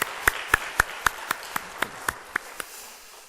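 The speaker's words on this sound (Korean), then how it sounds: "우리 하나님 앞에 감사 영광의 박수로 또 우리 감사의 박수를 한번 같이 한번 드리도록 하겠습니다" A church congregation claps in unison for the choir during a Sunday service: about a dozen sharp, evenly spaced claps in a steady rhythm that thin out toward the end, followed by quiet.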